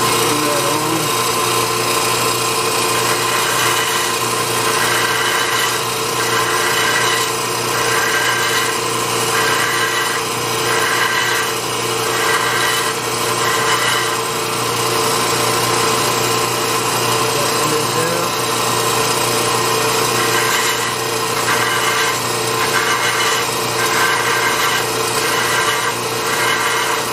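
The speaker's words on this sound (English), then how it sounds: "So here I am on the belt sander. I'll turn that on." A belt sander runs continuously while sanding a part during a trim tab install on a 1999 Sea Ray 180, a loud steady motor whir with rhythmic rubbing surges as the part is pressed against the belt.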